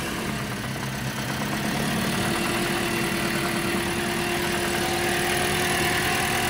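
Car engine catching after a throttle body and idle stepper motor check, then settling into a steady idle hum with a faint whine, close and continuous with no talk.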